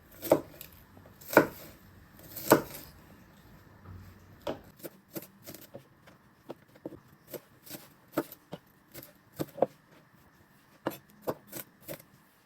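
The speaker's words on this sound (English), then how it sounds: "you want to give them a fine chop so you've got nice little pieces" A knife chops onion finely on a board in uneven runs of crisp taps, some loud and heavy at first, then lighter, quicker strikes spaced irregularly with quiet gaps between them.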